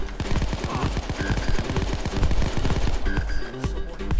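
Rapid automatic gunfire in the heist shooter Payday 2, dense bursts of shots rattling loudly and almost continuously with game effects mixed in.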